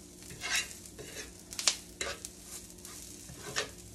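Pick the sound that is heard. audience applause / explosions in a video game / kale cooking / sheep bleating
kale cooking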